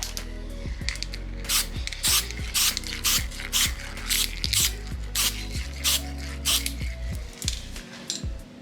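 Repeated short bursts of aerosol spray paint rust-proofing a van's underbody, hissing on and off in a quick rhythm, with a rattling can and a low mechanical hum underneath.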